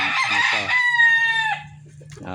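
A backyard stag rooster crows once, loud and close, with a long drawn-out call, followed by a quiet pause and soft clucking, while someone talks faintly in the background.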